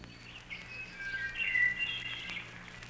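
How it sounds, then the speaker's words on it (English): A bird's song rings out at moderate distance, a few bright, slightly rising phrases over faint background hum, with no voices. "Did you hear the oven bird then?"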